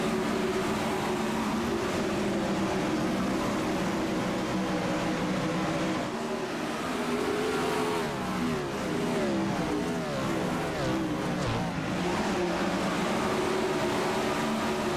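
Race cars lapping Charlotte in a 410 sprint car heat race in a sim racing game, a dense, continuous engine roar of several cars in tight quarters that holds steady throughout.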